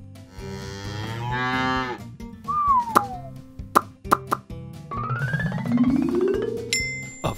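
A cartoon cow gives one drawn-out moo between about 0.5 and 2 seconds. Light musical plops and chimes surround it in a children's animal-alphabet tune, and no one speaks.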